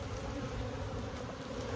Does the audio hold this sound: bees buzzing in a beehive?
yes